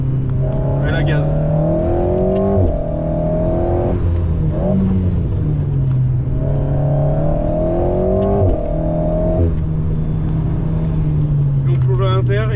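An Alpine A110S with an aero kit accelerates hard around the Clastres race circuit, its engine rising in pitch through two long revving pulls with a gear change between, loud and close from inside, with brief talk.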